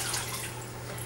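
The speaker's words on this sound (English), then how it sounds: "I just pour it through the colander" Water poured through a colander into a 10-gallon fish tank makes a steady, soft, broadband splashing rush that holds evenly throughout and stands alone, with no voices.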